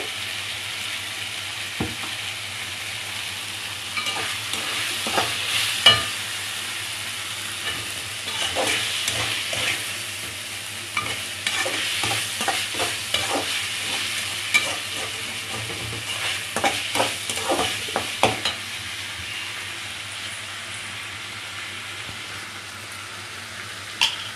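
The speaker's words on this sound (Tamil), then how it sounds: "வெங்காயம் அதெல்லாம் அந்த இஞ்சி பூண்டு பேஸ்ட்டோடு நல்லா வதங்கணும்" Onions sautéing with ginger-garlic paste for a chicken gravy, a low steady sizzle punctuated by irregular scrapes and clicks of a spoon stirring the pan, close and moderately quiet.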